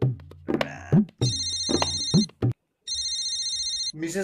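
A repeating electronic phone ringtone, bright and high-pitched, sounds in bursts, with people talking before and between the rings.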